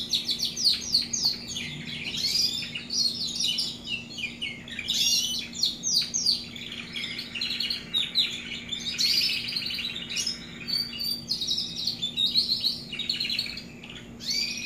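Young timbrado canaries chirp and warble continuously at close range, overlapping bright trills and tweets over a steady low hum.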